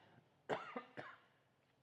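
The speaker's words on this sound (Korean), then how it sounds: "얼마 만에 섰는데 기침이 나옵니까?" Two quick, hoarse coughs from a preacher close to the microphone during a Sunday morning church sermon, separated by a brief pause, fairly quiet overall.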